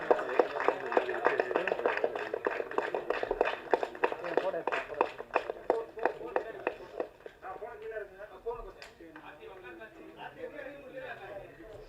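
A crowd at a film audio and trailer launch applauds the team of the movie Dear with dense, steady clapping that thins out toward the end as voices carry over the room.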